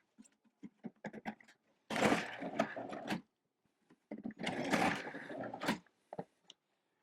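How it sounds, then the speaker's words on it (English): Food processor shredding cabbage and carrot for coleslaw, two loud whirring and chopping bursts of about a second each, surrounded by quieter clicks and taps from handling the machine. "I'll put it in our food processor. And I'm going to do the same thing with the carrot"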